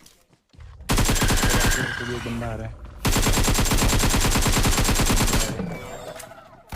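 Rapid automatic gunfire in PUBG Mobile rattles out in long, loud, dense bursts, with a short pause between them, while someone talks over the shooting.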